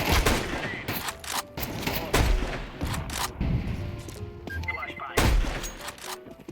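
Counter-Strike 2 gunfire comes in repeated sharp bursts and single shots, with heavier booming volleys. It is loud and busy throughout, mixed with excited voices talking over the action.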